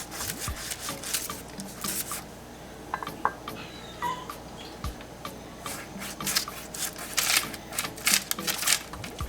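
A knife cuts into homemade pop tarts filled with strawberry jam and cinnamon sugar, giving repeated crisp crackles and soft squishes of flaky pastry, close and steady throughout with brief taps against a board.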